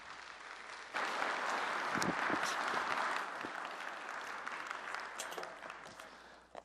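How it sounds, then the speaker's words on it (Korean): A church congregation greets a pastor with warm, sustained applause that starts suddenly, holds steady for several seconds in a large hall, then gradually softens toward the end. "우리 나오실 때 크게 환영의 박수로 맞이해 주시면 감사하겠습니다"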